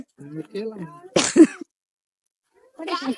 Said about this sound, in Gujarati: બહુ ઉધરસ થઈ ગયો